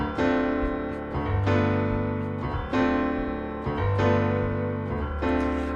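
Rhythmic piano chord voicings hammered in a funky sixteenth-note groove with repeated, punchy attacks and a sustained bass note underneath, played loud and solo with no talking.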